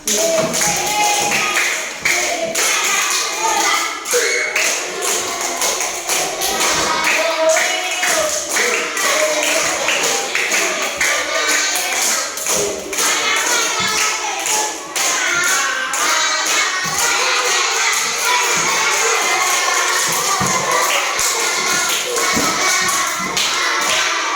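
Second-grade schoolchildren clap their hands in rhythm while singing the class song "Di sini senang, di sana senang," a long run of close, loud, crowded claps and young voices.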